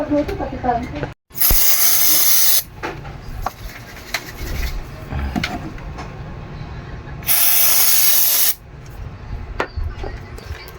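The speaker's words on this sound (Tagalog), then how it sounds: "Ito yung Mars contact cleaner." Mars contact cleaner sprays onto a rusty gearbox/bearing case of a Eureka single tub washing machine, two loud sustained hissing bursts of a few seconds each, close to the mic, with workshop clatter between them.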